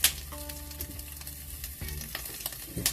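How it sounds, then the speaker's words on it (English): Fish cakes and onion frying in a pan for rabokki, a steady close sizzle with occasional crackles and stirring scrapes, and no one speaking. "right now I'm just toasting frying the fish cakes a little bit, giving them a little crisp and softening the onion"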